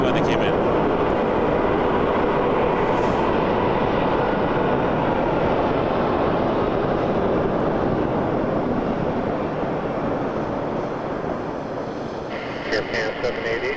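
A Boeing 737 Max 8 airliner taxis at Toronto Pearson Airport, a broad, loud roaring wash of engine noise that eases slightly toward the end, with voices talking faintly underneath.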